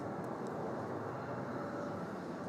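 Jetstar jet on landing approach at Melbourne Airport, a steady broadband roar of engine and airframe noise that holds level throughout, distant and continuous with no talk over it.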